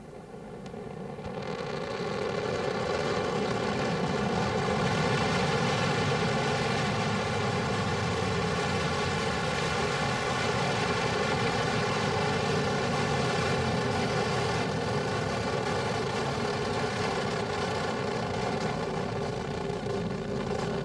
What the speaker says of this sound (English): Some very impressive shots of those extremely powerful engines roaring up into the night